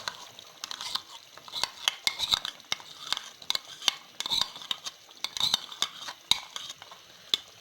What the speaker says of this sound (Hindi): अब हम इसको अच्छी तरह से 3 से 4 मिनट भून लेंगे ताकि हमारा घी निकल आए